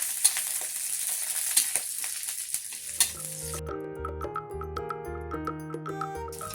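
Garlic and dried chillies fry on a high flame, a bright, steady sizzle with light stirring clicks that gives way abruptly to music.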